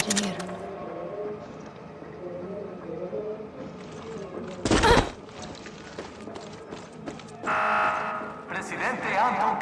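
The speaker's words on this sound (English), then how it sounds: "Gotta take out that alarm." An alarm blares in the Far Cry 6 video game with a harsh buzzer tone among gameplay effects, footsteps and a loud burst. Voices talk over it.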